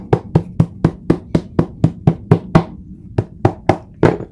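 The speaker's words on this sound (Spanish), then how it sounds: "martilla en el papel." A hammer taps on paper to shape the toe of a shoe, about fifteen sharp, close knocks in a fast even rhythm, pausing briefly before a few more strikes.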